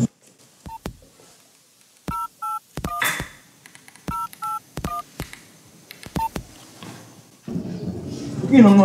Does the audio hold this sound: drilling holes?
no